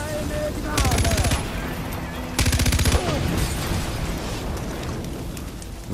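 Two heavy bursts of automatic gunfire rattle out in a Far Cry 4 firefight during an outpost assault, set against a constant rumbling game soundscape.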